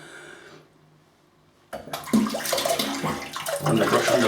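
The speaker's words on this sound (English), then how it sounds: "run the brush under the water a little bit." A paint brush rinsed under a running tap: after a quiet stretch, a sudden steady splashing gush of water starts and continues loudly to the end, no talking.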